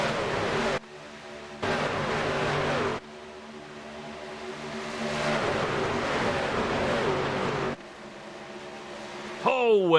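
A pack of race cars at Chicagoland circuit, loud engine roar swelling and dropping in chunks as cars pass, with abrupt cuts between passes and a rising whine near the end.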